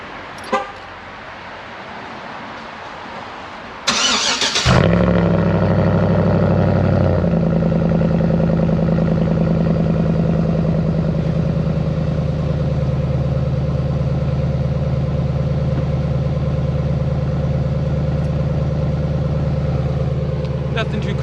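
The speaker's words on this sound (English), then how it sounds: "So let's go ahead and get that cold start." A basic 5.3-litre LS V8 in a pickup truck cranks and fires on a cold start, then settles into a loud, steady, even idle that runs on alone for over fifteen seconds.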